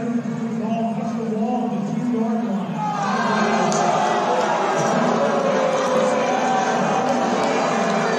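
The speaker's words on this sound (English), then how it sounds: "you hear the booing as the call does not go the Storm's way" Crowd at the SW Kansas Storm vs Topeka Tropics indoor football game, a broad sustained drone of booing that swells after a few seconds and keeps going, with an announcer talking over it.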